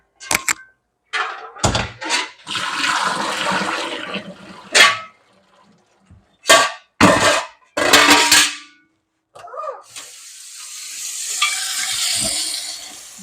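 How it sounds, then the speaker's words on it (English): Hot water splashes and pours out of a pot in several bursts during home canning, with sloshing, hissing gushes and a few hard thunks between them; no talking. "I'm going to dump this hot water out."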